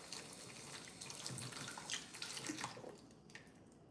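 Running tap water for candy making, a steady broadband hiss of flowing water into a sink or container, soft and continuous before easing off near the end, with no voices.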